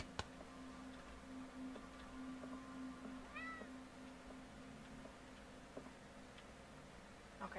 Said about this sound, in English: The cat's back.